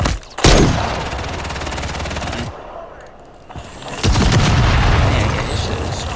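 Call of Duty MW3 multiplayer combat: a sharp close gunshot burst opens into rapid automatic fire, a brief lull, then another loud blast and dense gunfire, with a voice talking faintly underneath.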